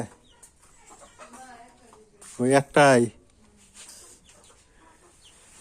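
Hens on a small farm clucking, with a short, loud burst of cackling lasting under a second amid steady speech and quiet background noise.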